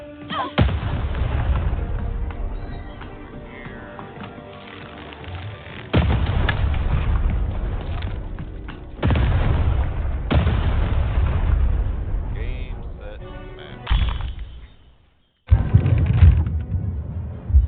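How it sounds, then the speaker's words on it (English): Cannon firing in the video game Lost in Random: heavy booming blasts in separate bursts, each one followed by a long rumbling roar, loud and with no voices over them. "Shoot the button to fire the cannon."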